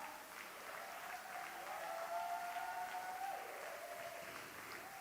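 A congregation at a Montreal church service claps together in sustained, steady applause that fills the room, swelling slightly in the middle before easing off, with no talk over it.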